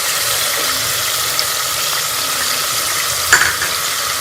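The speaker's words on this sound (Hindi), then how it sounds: "और बीफ को कलर चेंज होने तक भून लेंगे। और इसके साथ ही हम इसमें लहसुन और अदरक का पेस्ट भी शामिल कर लेंगे" Beef frying in a pan with garlic and ginger paste for restaurant-style nihari, a steady close sizzle with a few stirring clatters partway through.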